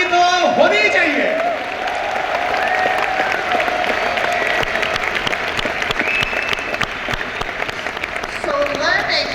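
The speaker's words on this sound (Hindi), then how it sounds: "He deserves a big round of applause." A large audience claps loudly and continuously for a speaker at an event, a full sustained ovation with a voice over the sound near the start and again at the end.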